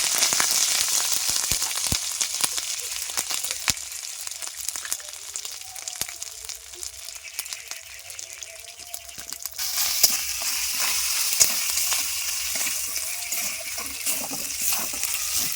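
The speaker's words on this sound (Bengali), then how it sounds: "আদাটা আমি তেলে ভালো করে ভেজে নেবো" Steady crackling sizzle of ginger paste frying in hot oil, continuous and close, with a brief stirring scrape partway through and the hiss brightening near the end.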